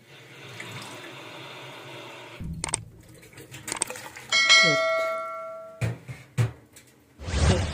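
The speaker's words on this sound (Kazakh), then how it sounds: "4 кесе салқын су құйдық" Cold water pours from a tap into a pot with rice, coming in several separate bursts of splashing flow, along with clinks and a ringing metallic tone from the vessel.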